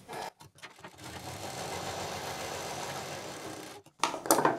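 A sewing machine runs steadily for about three seconds, stitching through the middle of velvet fabric folded for a designer bag. Brief handling sounds come before the stitching, and a louder clatter follows it. No one speaks.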